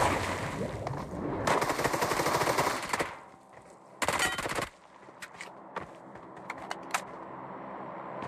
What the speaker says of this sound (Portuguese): E muito tiro.